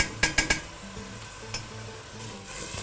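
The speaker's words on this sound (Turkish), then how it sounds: "Böyle karıştıracağız." A spoon stirs tomato and pepper paste in a cooking pot, opening with three sharp metallic scrapes and a later clink over a soft, continuous sizzle, close by and with no voices.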